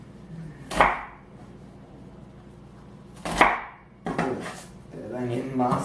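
A knife chops through an onion on a cutting board: two sharp, isolated thuds a few seconds apart, then a rougher cut, heard up close in a quiet kitchen.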